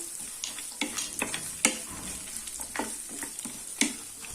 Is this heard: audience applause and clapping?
no